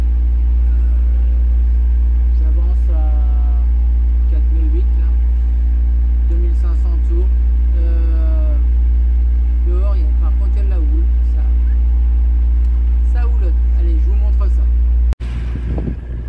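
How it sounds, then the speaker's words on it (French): A sailboat's engine running on a flat, windless sea in the Bay of Biscay, a loud steady low drone throughout, with someone speaking over it and a sharp knock near the end. "Pas de vent, j'entendais le moteur"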